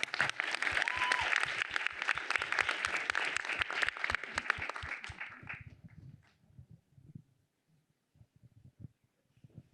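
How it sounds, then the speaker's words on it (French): Audience at the Prix Lilith 2024 award ceremony applauds with dense clapping that fades out after about six seconds, leaving a few scattered claps. "veuillez applaudir Louane Lopez."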